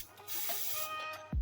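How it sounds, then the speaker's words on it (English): A perfume atomizer spray bottle of Taylor of London Lace gives one brief, close spritz, a soft airy hiss just over a second long, ending with a small click. "I'll get a fresh spritz of this and I'll show you guys the sprayer."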